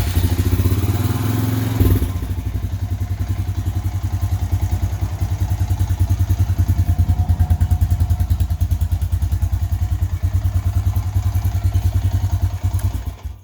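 A Honda Rancher 350 ATV engine cranks with the starter and then settles into a steady, rapid idle, loud and close, running alone with no talk.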